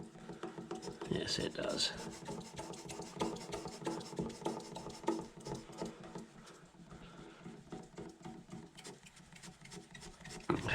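A rag soaked in brake cleaner is rubbed over powder coat on a Jaguar MKII heater box, close rhythmic scrubbing and swishing strokes, with a short spoken reply partway through.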